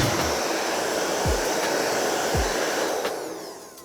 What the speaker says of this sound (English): starting with the blow dryer is gonna be a good idea to see if we can get any of like the surface dust off of this thing